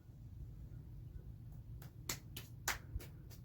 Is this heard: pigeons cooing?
no